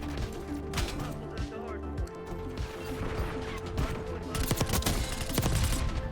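A sticky grenade going off in the Black Ops 6 video game, a loud burst within dense, continuous gunfire and crashing game effects, with speech mixed in.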